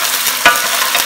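Chopped onion, serrano chile and garlic frying in a pan, a steady broad sizzle with a brief louder burst of stirring midway, close and unbroken.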